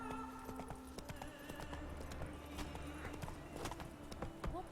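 Hooves clip-clop at a quick, steady gallop as a horse runs in a video game, with faint ambient game sounds and an occasional brief snort or whinny mixed in, fairly quiet overall.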